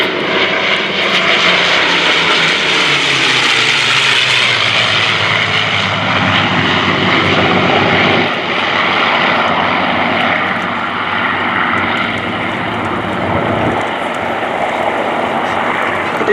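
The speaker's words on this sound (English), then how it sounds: "2 Mustangs, a Corsair and a P-40 Warhawk pass in review." Loud propeller engines roar steadily as WWII fighter planes, two Mustangs, a Corsair and a P-40 Warhawk with an Allison V12, fly past, the drone shifting in pitch as they pass and continuing throughout.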